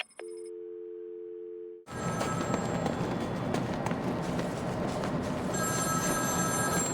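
A telephone rings in Batman: Arkham City during the Victor Zsasz side mission, with a short electronic ring at the start, then a loud, sustained, busy in-game scene with repeated ringing tones over rumbling background noise.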